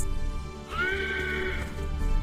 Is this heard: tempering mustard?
no